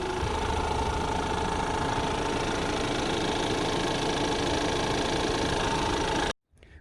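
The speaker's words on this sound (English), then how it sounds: "And there's the engine." With the hood open, the engine of a 2020 Ford Escape SEL AWD crossover idles in a steady, even hum that runs unbroken for several seconds, close and moderately loud, then cuts off abruptly.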